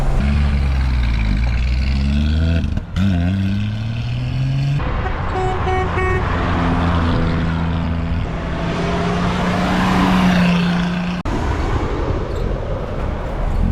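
A maroon 1965 Ford Mustang drives down the road, its steady engine note rising and falling through gear changes with a brief break near three seconds, loud and close throughout with no talking.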